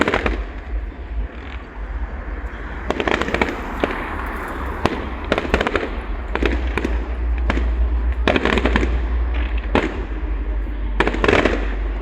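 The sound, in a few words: fireworks display exploding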